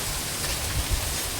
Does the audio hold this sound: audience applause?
no